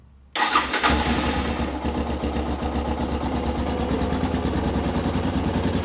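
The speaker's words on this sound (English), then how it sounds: "All right, we got a running bike." A Suzuki DR650 motorcycle engine cranks briefly and catches, then settles into a steady, loud, close thumping idle.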